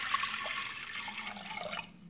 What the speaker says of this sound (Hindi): तो ये कुकर है, इसमें मैं पानी डालूँगी,